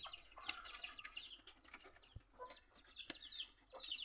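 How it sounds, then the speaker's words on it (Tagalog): Chickens cluck and chatter in short, overlapping calls, close by, with a few sharp knocks mixed in. "Yung mga manok."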